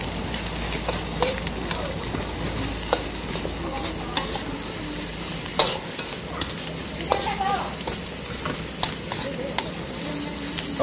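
Palm heart being stir-fried with shrimp paste and anchovies in an outdoor garden kitchen, a steady sizzle in the pan with scraping stirs and scattered clinks throughout, voices talking faintly in the background.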